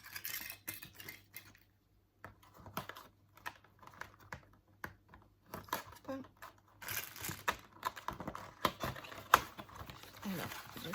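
Plastic packaging crinkles and rustles as a package from an Action store haul is opened, with irregular close-up handling noises and some quiet talk in between.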